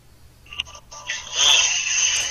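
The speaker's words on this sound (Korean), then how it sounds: "유상무한테 전화 한번 해보겠습니다." A phone call being placed rings through a handset, a short tonal ringback over faint background noise, rising and sustained near the end.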